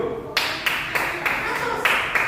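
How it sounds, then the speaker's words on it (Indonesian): Fourth-grade classroom children clapping in unison for classmates who presented, about six sharp rhythmic claps spaced evenly, close and fairly loud. "tepuk tangan untuk teman kalian yang udah maju"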